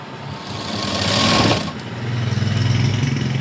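A sewing machine stitches a blouse in a loud, close run that speeds up, pauses briefly, then settles into a fast, even mechanical chatter.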